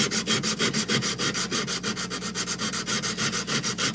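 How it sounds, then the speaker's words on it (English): Hand sanding with boride mold polishing stones at a low grit, a steady rhythmic back-and-forth rubbing with about four strokes per second, close and continuous with no talking. "These are those boride mold polishing stones. I swear by them now for the hand sanding."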